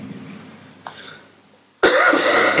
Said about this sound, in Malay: Minta maaf batuk sikit